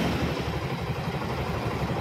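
A small motorcycle engine with only valve clearance noise, no connecting rod fault, ticks over at a steady, even idle, close by, with a smooth low rumble and no knocking.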